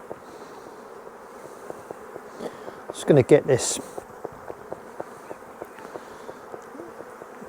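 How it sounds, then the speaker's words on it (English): Dense hum of honeybees swarming around an open hive during a spring inspection, steady and close throughout, with a louder burst of handling noise in the middle and someone talking briefly over it. "look at the amount of bees on there and the amount of bees in there"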